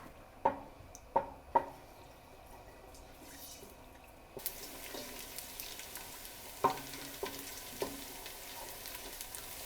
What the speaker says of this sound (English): we will add our onions